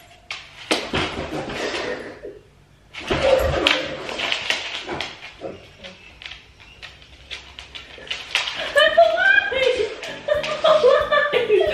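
Short, high whimpers and yelps from a dog at home, with people talking and laughing around them and scattered clatter, the whines growing clearer and more frequent near the end.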